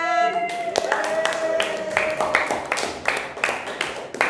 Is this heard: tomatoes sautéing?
no